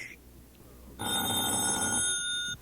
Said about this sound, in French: Oui, c'est le téléphone.